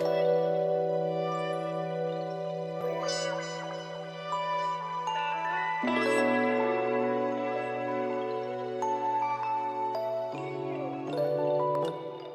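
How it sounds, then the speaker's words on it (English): Two wah-effect guitars layered in a soul loop, playing a steady chord progression with sustained tones and shifting filtered sweeps, clear and moderately loud throughout. "So we added these two wah guitars and they sound like this."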